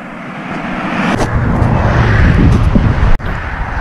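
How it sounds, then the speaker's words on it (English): A car passes within a few feet on a dark road, its rushing roar building steadily and loudly before cutting off abruptly near the end, with wind noise throughout. "cars are coming within a few feet of me"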